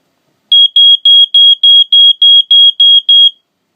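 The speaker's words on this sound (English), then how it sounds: "When you test it, or when, on a real smoke condition, the escape light will go on with the alarm sound." A 1990s Family Gard FG1000C smoke detector with escape light sounds its test alarm: ten loud, evenly spaced shrill beeps in a steady rhythm, close and alone, then silence.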